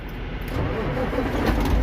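Truck engine cranking and catching after a key turn, heard close up as a brief rumbling start under faint background noise.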